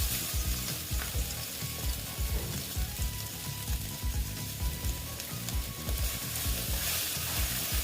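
Pointed gourd, onion and egg frying in a pan give a dense, constant sizzle with rhythmic scraping and clicking of a utensil stirring throughout, close and without speech.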